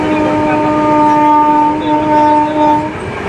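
A Swarna Jayanti Express passenger train runs past with a steady, loud horn blast holding for about three seconds over continuous rolling rail noise.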